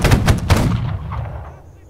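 A volley of musket gunfire crashes out at once in a mock battle, a loud close blast with a few more overlapping shots, then a rolling echo that fades.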